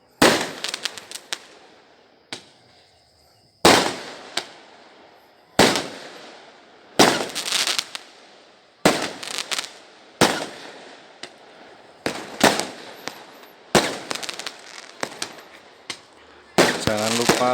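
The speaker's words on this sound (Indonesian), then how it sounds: "Pesta kembang api ini bosku." New Year's Eve fireworks celebrating the turn from 2021 to 2022, with loud, sharp bangs and crackling bursts repeating every second or two, sometimes in quick clusters, separated by brief quieter gaps.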